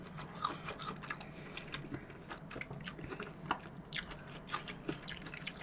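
Crunchy close-up chewing of Korean melon (chamoe) eaten with its seeds, with steady repeated bites and squishy mastication throughout, no talking.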